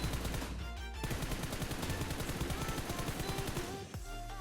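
Rapid automatic gunfire in PUBG Mobile, a dense rattling stream of close shots that breaks briefly then resumes, loud and continuous.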